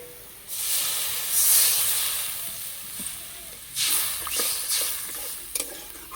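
Water poured into a hot pan of sour greens curry in a village kitchen hisses and sizzles in loud bursts, with a steady steamy hiss underneath and clinks of stirring toward the end.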